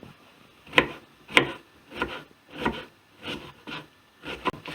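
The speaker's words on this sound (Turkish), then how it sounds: "soğanla doğramaya başlıyorum ben." A knife chops onions on a wooden board in a home kitchen, about eight evenly spaced, crisp cuts with soft scraping between them, close and fairly quiet with no talking.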